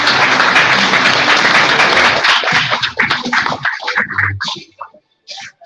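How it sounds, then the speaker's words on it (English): A room full of people at a service launch event applauds loudly and densely for about three seconds, then the clapping thins into scattered individual claps that fade out near the end. "So one more round of applause"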